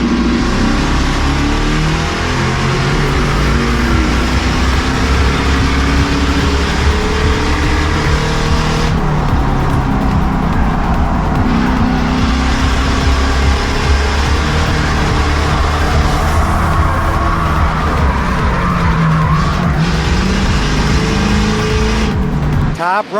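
Stock cars roar back up to speed on a green-flag restart late in the New England 900, a dense pack of engines revving loudly and continuously under a race commentator's voice.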